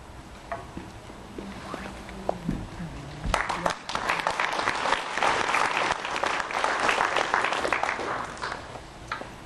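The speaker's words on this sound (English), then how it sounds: "I don't take exception to the late applause." Applause from the audience at a town hall meeting, starting a few seconds in and building into a full, steady crowd clapping that carries to the end, with some murmuring and shuffling before it begins.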